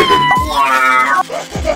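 A person mimics a cat with a drawn-out, wavering meow, loud and close, followed by a shorter second meow.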